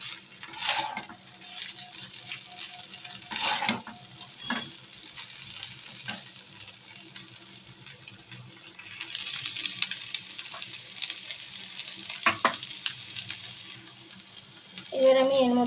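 Vegetable fried rice seasoned with salt and sugar fries in a pan, a continuous sizzle broken by spatula scrapes and metallic clinks, with a brief sound near the end.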